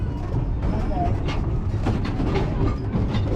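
A narrow gauge railway train with open-air cars rumbles along steadily at a tourist line in Portland, Maine. The rolling noise is continuous and fairly loud, and a voice talks over it.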